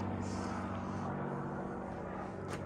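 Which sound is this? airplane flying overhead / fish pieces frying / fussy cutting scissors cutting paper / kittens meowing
airplane flying overhead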